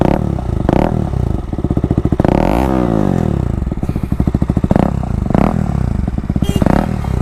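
A motorcycle engine idles with a rapid throbbing beat, then revs up sharply several times, the pitch rising and falling close by.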